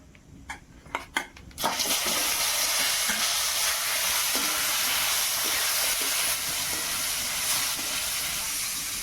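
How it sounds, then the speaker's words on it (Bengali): Tamarind hits hot oil tempered with chillies and spices, setting off a sudden loud, steady hiss and sizzle after a few sharp clinks, continuing strongly and close by for several seconds. "এই অবস্থায় আমি তেঁতুলগুলো দিয়ে দিচ্ছি।"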